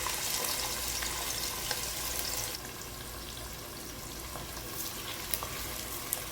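Finely sliced onions stir-fry in oil with cinnamon sticks, cloves and cardamom for biryani, giving a steady close hiss of sizzling that eases slightly partway through, with a few light clicks of stirring and no talk.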